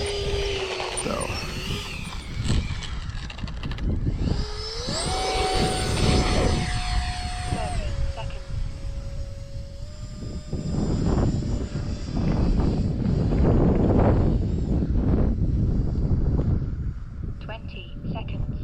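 An E-flite Habu SS 50mm electric ducted-fan RC jet on its maiden flight on a 6-cell battery, with a whooshing, whining fan rising and falling in pitch as it makes passes overhead, mixed with wind noise while someone talks.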